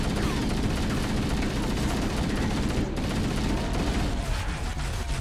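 Rapid gunfire from a Covenant dropship in Halo: Combat Evolved, a loud, dense, continuous barrage of shots and booms lasting throughout with no letup.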